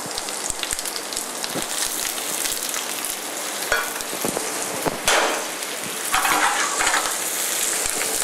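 Spinach tossed in a pan of foaming butter, a continuous bright sizzle and crackle with scattered pops and a few stirring clatters, fairly close and with no talking.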